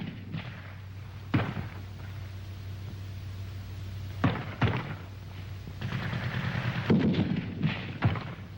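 Gunfire bursts in a war video game, with sharp isolated shots and thuds over a steady low hum, then a denser cluster of rapid machine-gun reports near the end.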